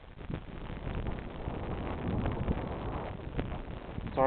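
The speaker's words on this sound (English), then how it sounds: "Sorry about the wind, girls. It's a little windy." Wind gusts buffet the microphone outdoors during a full inspection of a Buckfast beehive, a steady low rumble that swells and eases unevenly, with no voices.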